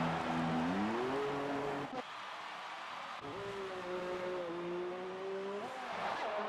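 Formula 1 race car in the F1 video game at Singapore, engine whining steadily and close as it drives through the tunnel, pitch rising and holding through gear changes, with a faint voice underneath.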